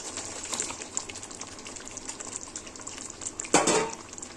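Fried paneer and water added to a simmering gravy in a pan for shahi paneer, close bubbling and scraping clatter throughout, then a sudden louder splash and sizzle burst as the water goes in.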